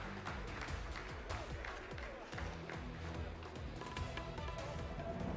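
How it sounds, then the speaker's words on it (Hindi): Scientists at ISRO mission control applaud after a Chandrayaan-3 descent phase, steady moderate clapping that carries on under a low murmur of voices. "जी हाँ, आप इस तालियों के गड़गड़ाहट को सुन सकते हैं,"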